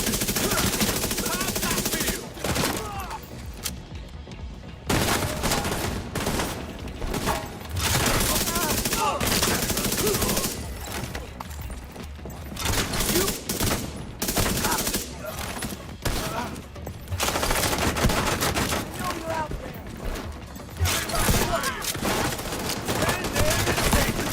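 Heavy gunner enemies in The Division 2 fire in dense, sustained automatic bursts that barely let up, with brief pauses and occasional voices mixed into the loud firefight.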